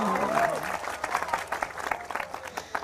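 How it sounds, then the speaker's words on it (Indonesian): An audience at a talk breaks into applause, many hands clapping in a dense patter that swells and then thins into scattered claps, with a voice briefly heard at the start. "Kalau Anda tepuk tangan, saya ikut suka. Tepuk tangannya mana dong?"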